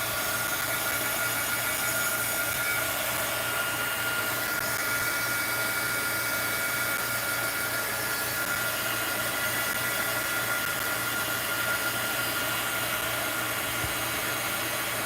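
A heat tool blows a steady, loud, even whir to warm residual glue for removal, running without pause for the whole stretch, with no talking over it.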